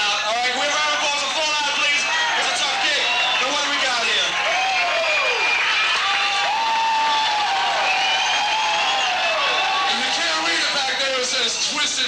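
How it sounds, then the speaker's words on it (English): Concert crowd at a 1980 show in Brooklyn applauding the opening band, a continuous roar of clapping, cheering and shouting voices that holds steady and loud from start to finish. "Can we have one round of applause for the opening band?"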